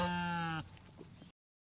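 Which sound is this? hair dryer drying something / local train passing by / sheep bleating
sheep bleating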